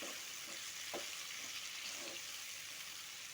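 Broad beans frying with garlic, onion and tomato, stirred in the pan, giving a steady soft sizzle with a few quiet scrapes of the spoon, faint and close, with no voices.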